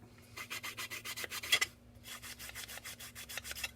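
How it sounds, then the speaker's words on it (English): A sanding stick rubs a small plastic model truck part from a multi-piece AMT kit, taking off flash at the pin marks. Rapid back-and-forth rasping strokes come in two close runs split by a brief pause, with a faint steady hum beneath. "Let's give a little minor sand."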